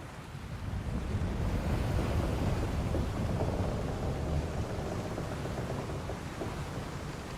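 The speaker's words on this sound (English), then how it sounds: "We're in for a proper storm, it seems." Thunderstorm aboard a ship's deck in the Final Fantasy XIV Dawntrail video game, a broad rumbling roar of wind and surging waves that swells early and then stays heavy and continuous, with no voices.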